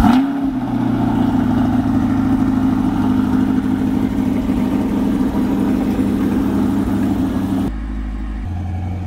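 A race car engine runs loud and close, a steady revving rumble with a strong low tone held for about eight seconds, then cuts abruptly to a quieter low hum.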